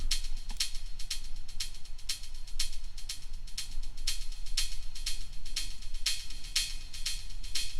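A single repeated drum sample in an organic house groove, its decay and filter automated in Ableton, plays as bright evenly spaced hits with slight variation in tone, steady and alone.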